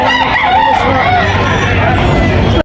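A rooster crows loudly and repeatedly amid a busy background of other birds and people chattering nearby at a market where roosters are sold.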